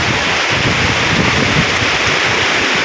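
Steady roaring typhoon wind buffets the microphone with a broad wash of noise that could include heavy rain, loud and continuous with no voices, during flooding in farm fields.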